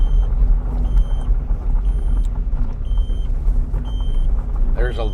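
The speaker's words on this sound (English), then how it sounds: "I know that beeping's gonna be irritating for just a minute." Regular high-pitched reversing beeps repeat over the rumble of a nearby vehicle engine, with a brief chirping sound near the end.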